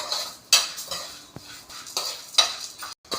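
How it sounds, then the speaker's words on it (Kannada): Moringa leaves frying in a pan, with a soft background sizzle broken by sharp metal spatula scrapes and clinks against the pan at close range, no voices. "ನೋಡಿ, ನಾನು ಫ್ರೈ ಮಾಡ್ಕೊತಾ ಇದ್ದೀನಿ."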